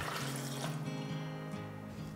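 Water is poured into a blender over cashews in a steady gush for a couple of seconds, close and fairly loud, with no voices.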